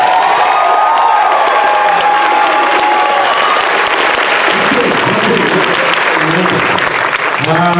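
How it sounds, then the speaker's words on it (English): An audience at a Comic Con Revolution 2018 panel on Batman: The Animated Series bursts into loud, continuous applause and cheering, with whoops and shouts carrying over the clapping. "I want to hear the loudest applause for the whole weekend right now."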